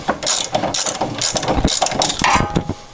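A ratchet wrench turning coilover bolts on a Honda Civic, rapid close clicking in uneven bursts, loud and continuous without speech.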